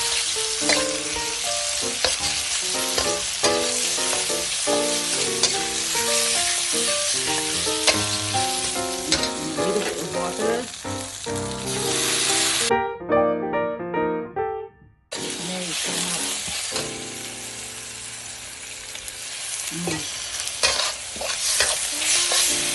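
Pork stir-frying with holy basil in a hot pan for Thai pad kra pao, a loud, steady sizzle with stirring scrapes, a brief drop near the middle before the frying resumes at full strength.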